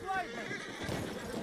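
A horse gives a short whinny at the start, followed by galloping hooves amid battlefield din in the World War I shooter Battlefield 1, with a voice talking over it.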